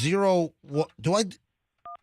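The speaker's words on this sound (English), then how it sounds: "I think I dialed." A single short telephone keypad tone from dialing an international number, alone and clear after someone speaks a few brief words.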